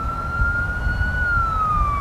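An ambulance siren wails along a road at night, a single sustained tone sliding slowly up and down over low traffic rumble, moderately loud and steady throughout.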